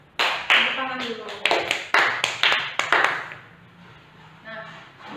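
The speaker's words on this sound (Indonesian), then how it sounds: "minta anak-anak ibu tepuk tangan dulu" Children clapping together in a primary school classroom, several short sharp bursts of claps in quick succession, close and loud, with a voice briefly heard afterward.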